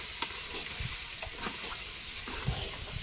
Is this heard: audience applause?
no